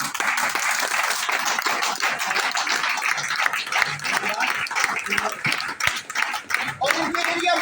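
An office audience applauds a new area manager of the Sargodha zone at a garlanding event, a loud, continuous close round of clapping that runs steadily and thins out near the end.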